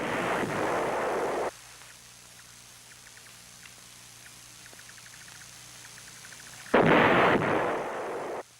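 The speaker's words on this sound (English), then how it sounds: "The North Vietnamese artillery hitting Khe Sanh and the Marine outposts was all indirect fire." Heavy North Vietnamese artillery fire striking the Marine base at Khe Sanh and its outposts, loud broadband blasts and rumbling at the start and again near the end, with a quieter stretch of low background noise in between.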